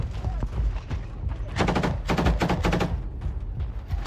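Combat footage of gunfire and explosions around a village building, with rapid bursts of automatic shots over a continuous rumbling din, loud and fairly close.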